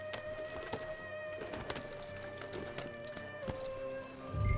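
Horse hooves in Red Dead Redemption 2, a run of crisp clip-clop strikes at a steady trotting rhythm, moderately near, over soft ambient birdsong and a tonal hum, with a low thump at the end.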